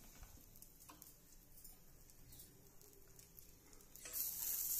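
Dried chillies and nigella seeds hit hot oil in a wok, with faint quiet frying at first, then a sudden bright sizzle that swells over the final second.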